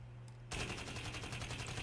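Rapid automatic gunfire from a Shadow Company gun addon in a video game bursts in after a half-second pause. It rattles on loud and steady to the end, with no talk.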